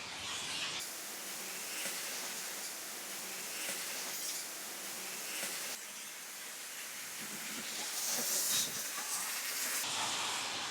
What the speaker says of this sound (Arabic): بلشت الآن منظومة الإخماد الذاتي